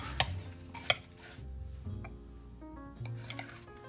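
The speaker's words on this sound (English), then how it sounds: "I'm just going to take my spoon here and I'm going to mix all of this up." A spoon mixing pineapple casserole ingredients in a bowl outdoors, producing quiet scraping and stirring strokes with a few sharper knocks of spoon against the bowl; no voices.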